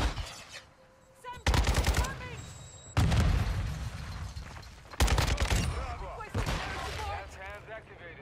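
Gunfire in Modern Warfare 2 with a Kastov 762 rifle, loud bursts of shots arriving in three separate clusters with pauses between them, close and sharp, with a voice talking briefly in the quieter stretches.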